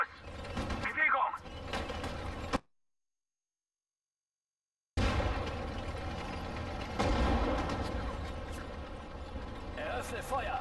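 Gunfire and explosive booms sound in the World War II strategy game Sudden Strike 4, with mechanical clatter and a voice giving commands in German, broken by a short silent gap.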